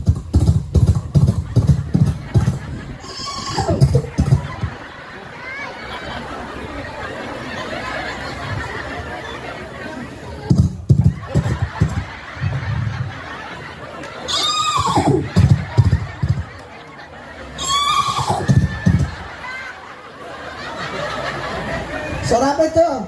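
A man imitates a horse neighing with his voice during a live religious talk to a crowd, several drawn-out whinny-like calls between stretches of his speech, with audience laughter around them.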